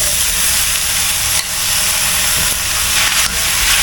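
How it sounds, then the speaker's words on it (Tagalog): Beef tongue sautéed with garlic and onion sizzles loudly and steadily up close, a dense hiss broken by brief stirring scrapes and shifts in the pan. "isisingkotsa lang natin yung ating dila sa ating bawang at sibuyas combine"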